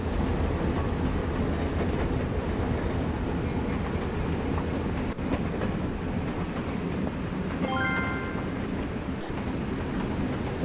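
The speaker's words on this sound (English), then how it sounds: "There's a train coming here." A train rolls past a pitch-and-putt golf course in Austin, Texas, a steady loud rumble filling the whole stretch with wind buffeting the microphone and a brief high squeal or horn-like tone partway through.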